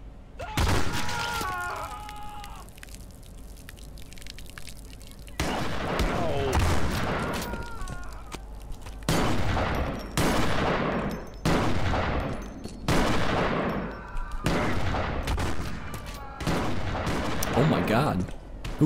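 Video game gunfire in Postal 4 during a street shootout involving a cop: loud, separate volleys of shots arrive every second or two, with gaps between bursts and occasional voices in the background.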